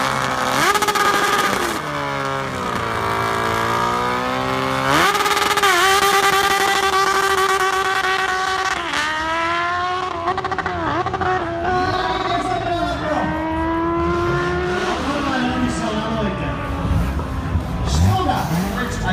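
Race cars accelerate hard at a sprint event at Slovakia Ring, engines revving loudly in repeated rising pitch sweeps while someone talks continuously over them.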